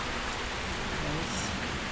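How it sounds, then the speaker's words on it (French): Steady rain falls in New Orleans on Super Bowl day, a dense, even hiss of drops hitting surfaces that fills the whole moment at a constant level. "le jour même, il a commencé à pleuvoir"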